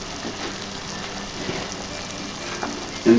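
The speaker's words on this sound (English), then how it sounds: "The wine has simmered" Wine simmers and bubbles in a pan as part of a Christmas meal, a steady close frying-like hiss with faint crackles and a slightly louder burst at the very end.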